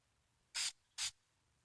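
An aerosol spray paint can gives two short, quick hissing bursts about half a second apart, close and clear against a quiet background.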